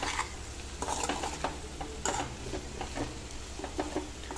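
Potato fry with green chilli, chilli powder and coriander powder is stirred in a pan, giving repeated scraping strokes over a low continuous sizzle, close and fairly quiet, with no talking.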